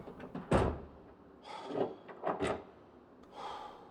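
Car doors locked inside the zombie survival game Project Zomboid: a handful of short, close mechanical clunks and thumps spaced unevenly, with one sharper knock standing out among them, heard alone.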